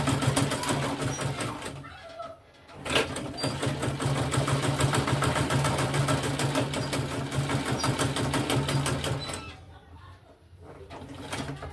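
Sewing machine stitching a tote bag of Ankara fabric and leather, running in steady rapid bursts with two brief pauses, loud and close under faint background sound.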